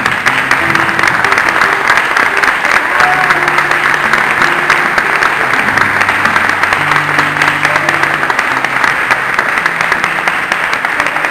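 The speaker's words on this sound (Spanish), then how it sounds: "Muchas gracias por esos aplausos." Sustained loud applause from a large audience at the opening ceremony of a convention in Lima, Peru, steady dense clapping throughout with faint background tones and no voices.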